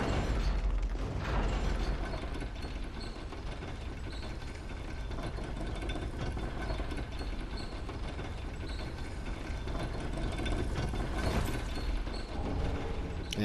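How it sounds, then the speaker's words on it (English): An elevator in Dark Souls III grinds along steadily, a continuous mechanical rumble with ratcheting, gear-like clatter and no breaks, moderately quiet and alone with no voices. "Or you can ride the elevator up,"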